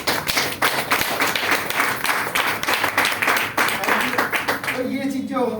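A crowd at a business training seminar claps in a dense, sustained round of applause that tapers off near the end as a voice begins.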